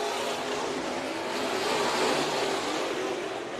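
Race cars in a heat race at Bakersfield Speedway during the Budweiser Nationals, a continuous, broad engine roar from several cars lapping the track, heard from a distance as a steady wash of sound.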